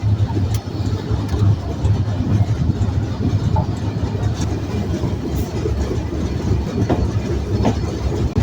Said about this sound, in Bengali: লোহাগাড়া রেল স্টেশন আমরা এখন ছেড়ে যাচ্ছি